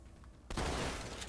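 Assault rifle fire in Halo multiplayer: a quiet lead-in, then a sudden dense burst of rapid shots that continues to the end.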